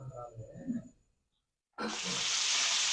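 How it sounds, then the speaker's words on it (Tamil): River fish frying on a dosa griddle over a wood-fired stove: after a short stretch of talking and a moment of near silence, a loud, steady hissing sizzle bursts in abruptly and continues close up to the end. "ஃப்ரை பண்ணிகிட்ருக்கோம் தோசைக்கல்லில் தான் எப்படி மொறு மொறுன்னு சவுண்டுட்டு விட்டுருக்கு பாருங்க"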